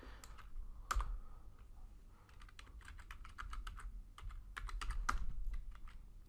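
Passphrase typed on a computer keyboard: quiet, irregular bursts of key clicks with short pauses, close and alone over faint room noise.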